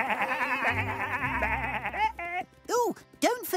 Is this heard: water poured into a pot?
no